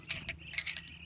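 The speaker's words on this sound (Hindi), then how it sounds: "पाने हो गए चाबियां।" Metal spanners and wrenches clink together in a few quick, bright jangling bursts, close by and fairly quiet, with no talking.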